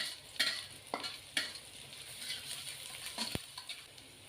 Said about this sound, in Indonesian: Untuk bawangnya ini mau aku tumis sampai kecoklatan ya.